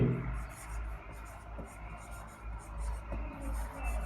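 Pen scratching across paper while physics notes are written during a class, close and soft, with a steady low hum underneath and a voice faintly present.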